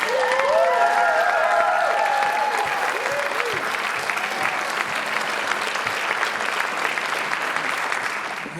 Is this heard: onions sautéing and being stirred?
no